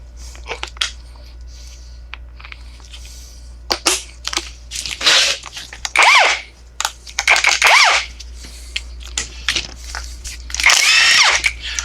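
A 1/2 inch ratchet works on stubborn engine bolts of a 1947 Ford, giving bursts of sharp metallic clicks and grinding strokes between quiet gaps, loud and close over a low steady hum.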